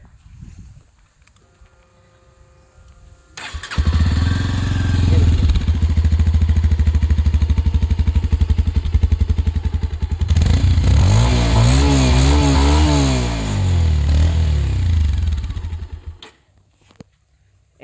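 A 2023 Bajaj Avenger 160 Street cruiser motorcycle's exhaust starts up loud and close, idles with a deep throb, then revs sharply several times before cutting off.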